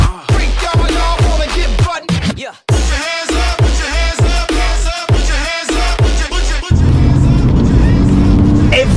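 Porsche 993 sports car from the 1990s driving, engine note rising and falling through repeated gear changes with brief gaps, then settling into a steady loud drone of road and engine noise.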